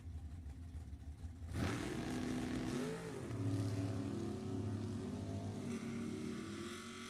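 Quiet trackside ambience at Sacramento Raceway gives way to a drag racing car launching at an NHRA event, a loud engine roar that rises in pitch through gear changes as it speeds away down the strip.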